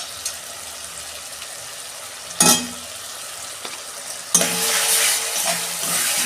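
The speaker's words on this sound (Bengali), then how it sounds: "এই যে আদা রসুনের পেস্ট দিচ্ছি আমি" Ginger-garlic paste hits hot oil in a pan for a spicy jackfruit and prawn curry, giving two sharp bursts of sizzling. The second burst settles into a sustained, close hiss with soft stirring, and no one speaks.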